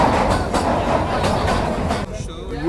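Shimla–Kalka toy train running through heavy snowfall, with a steady, loud rumble of wheels and carriage noise that carries faint rhythmic clatter. It drops briefly near the end.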